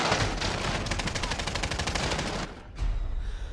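Rapid automatic gunfire in a video game airport battle, a dense continuous burst of closely spaced shots that cuts off, followed by a brief lull and further loud noise.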